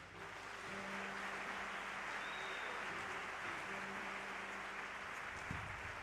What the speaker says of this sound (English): with a big round of applause, let us welcome the Chief of the South African Navy, Admiral Hlongwane